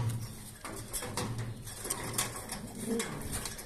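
Pigeons coo in a home pigeon loft, soft rolling calls repeating close by over a steady rustling background, with no talking.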